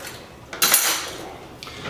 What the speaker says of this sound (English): let's open up this can of corn. I'm going to take a knife